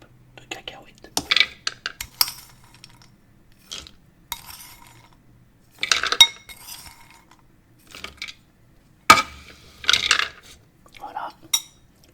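Peanuts spooned into a bowl, giving several short, sharp clinks and rattles in separate bursts against a quiet background, with soft whispered French speech between them.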